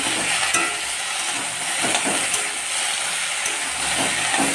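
Cauliflower and potato sauté in a hot pan, a constant hissing sizzle with occasional stirring scrapes, close and fairly loud, with no talking.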